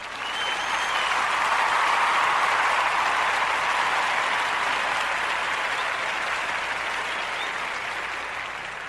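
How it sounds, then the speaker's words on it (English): Sustained, steady applause sounds like a recorded crowd clapping. It rises quickly, stays dense and loud for several seconds, then slowly tapers toward the end, with no talk over it. "Oh, let me give a round of applause for that."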